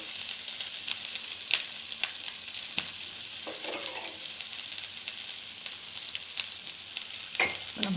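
Ragi semia being stirred with grated coconut in a pan, a soft continuous sizzle with scattered scraping clicks of the spoon throughout, no voices.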